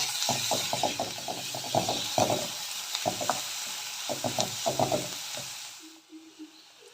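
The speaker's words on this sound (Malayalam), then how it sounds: "3 പച്ചമുളകും 4 അല്ലി വെളുത്തുള്ളിയാണ് ഞാനിതിൽ ചതച്ചെടുത്തിട്ടുള്ളത്." Onion, green chilies and crushed garlic sautéing in a pan, with loud repeated scraping strokes of a spoon over a hissing sizzle, close up; the stirring stops near the end, leaving a few soft knocks.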